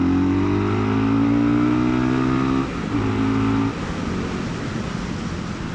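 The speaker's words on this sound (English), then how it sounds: "Wow, that is some fantastic pickup." A Fantic Caballero Scrambler 500 motorcycle accelerates hard, its engine note climbing in pitch, briefly dropping at a gear change, then roaring on over rushing wind noise, close and loud.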